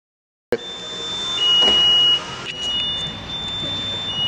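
A Lamborghini Murcielago Roadster gives a string of high electronic beeps, some held and some short and repeated, over a low steady hum close by.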